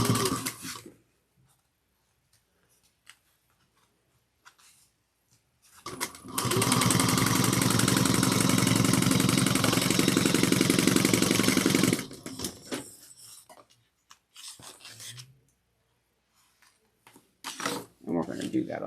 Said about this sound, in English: we're going to sew these on using 3/8 of an inch. Back stitch well at the beginning and the end.